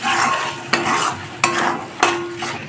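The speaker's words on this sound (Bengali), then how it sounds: "আরও মিনিট 5 এইভাবে কষিয়ে নেব।" Spice masala for paneer masala being stirred and fried in a pan, with a steady sizzle broken by sharp scraping strokes of a spoon or spatula about every half second, close and alone.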